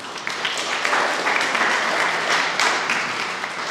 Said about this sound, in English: quick clap for each one